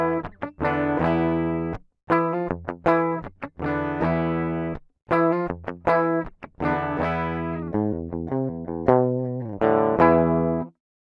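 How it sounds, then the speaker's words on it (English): Raw, unprocessed electric guitar recorded dry before reamping, playing sustained chords and single notes in phrases separated by brief pauses, loud and close with no other sounds. "here's the sound of that raw guitar that was captured."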